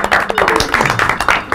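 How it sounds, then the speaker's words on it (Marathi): An audience claps at a village school event in a Marathi comedy sketch. The applause is dense and rapid, continuous and fairly loud, with voices mixed in. "वा वा, टाळ्या वाजवा."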